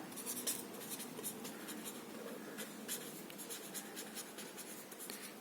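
A pen scratches numbers onto paper during a maths lesson, giving a continuous close, faint scratchy rasp with small strokes and pauses throughout and no voice.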